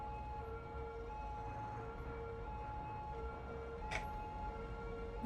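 A distant police car siren in the game Cities: Skylines wails steadily under a constant background hum, with a brief sharp sweep partway through; no one speaks.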